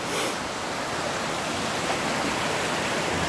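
Waterfall and small river stream at Clayton Park make a steady, broad rushing wash of water, continuous and fairly close, with no voices.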